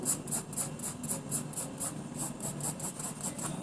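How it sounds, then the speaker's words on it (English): Quiet, rhythmic scratching of a pencil stroking across paper, repeated back-and-forth lines at a steady pace, close and soft. "draw lines overlapping each other"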